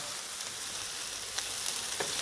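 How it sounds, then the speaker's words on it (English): Steady high-pitched sizzling of peppers frying in a pan on high heat for seafood paella, a continuous crackling hiss with a few sharper pops. "our peppers have been frying off on a high heat for about 10 minutes"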